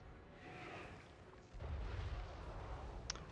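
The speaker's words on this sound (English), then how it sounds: "let's start the shelling. Because these cannons will start soon." Cannon artillery shelling on a Total War Warhammer 3 multiplayer battlefield: rumbling booms and low thuds under a steady battle din, with a sharp crack near the end.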